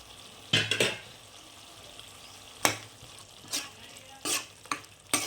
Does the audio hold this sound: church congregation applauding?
no